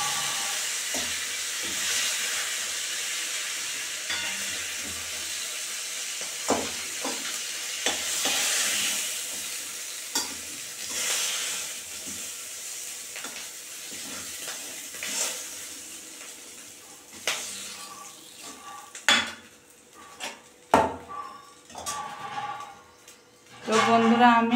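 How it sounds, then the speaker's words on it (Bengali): Light oil sizzle from katla fish heads frying in a pan, with clinks and scrapes as a spoon lifts them out, the knocks growing sharper and louder toward the end. "মাথাগুলো ভাজা হয়ে গেছে, এখন আমি নামিয়ে নেব। খুব কড়াকড়ি ভাজিনি, হালকা করে ভেজেছি, এখন চামচ দিয়ে সব তুলে নেব।"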